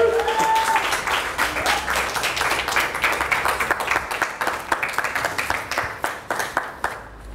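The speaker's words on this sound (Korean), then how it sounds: "큰 박수로 하나님께 영광 드리겠습니다." A church congregation gives rhythmic applause, at first dense and then settling into a fairly regular unison beat that thins out toward the end, with a brief voice heard at the start.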